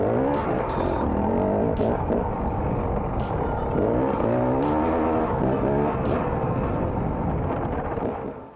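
A Beta Xtrainer 300 two-stroke dirt bike runs after being kick started, its engine revving loud and close in choppy bursts with rising and falling pitch, with no talking.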